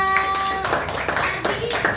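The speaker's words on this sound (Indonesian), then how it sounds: "tepuk tangan untuk kelompok visual" A small group in a classroom claps briefly for a presenting team, light scattered clapping mixed with speech and a sustained tone at the start.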